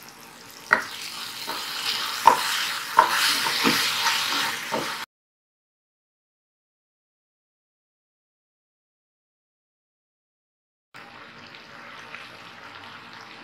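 Yogurt being stirred into ginger chicken frying in a pan, a steady sizzle with scraping spoon knocks for about five seconds, then silence, then the sizzle returning more quietly.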